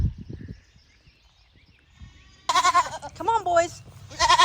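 Goats in a farm pen let out loud, wavering bleats in a quick burst, then another cry right at the end, close to the listener. Before the bleats, someone talks briefly over quiet background.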